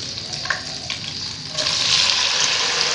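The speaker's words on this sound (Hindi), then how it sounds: "अब हम इसे फ्राई करेंगे।" Taro root (arbi) pieces going into hot oil in a wok over a medium flame, with a soft background hiss that swells into a steady, loud sizzle about halfway through.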